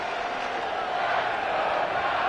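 Home crowd at a Rams vs 49ers NFL football stadium, a dense continuous roar of cheering and shouting that swells slightly toward the end, loud and sustained throughout.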